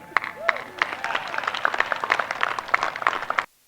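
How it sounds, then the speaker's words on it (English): An audience claps in a loose, scattered burst of individual hand claps for about three and a half seconds. Voices and cheering mix in, and the clapping stops abruptly. "President Magoo wants us to clap"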